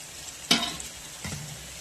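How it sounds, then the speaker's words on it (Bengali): Potato with chopped onion and green chilli frying on a low flame, a soft sizzle with two brief stirring scrapes, fairly quiet and close. "আলুটাকে লো ফ্লেমে ভাজবো"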